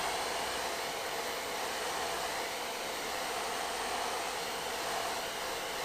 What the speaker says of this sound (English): let's get the temp gun and then just heat it up, not too much, but just enough to where the vinyl gets warm and stretchable